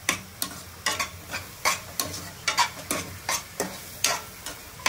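Curry leaves fry in a pan while being stirred for gongura pickle, a continuous sizzle punctuated by regular scraping stirs, about a dozen close, distinct strokes.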